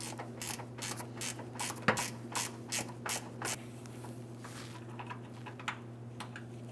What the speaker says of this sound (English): you're going to be using a ratcheting wrench, and we're going to be turning our mounting bolt counterclockwise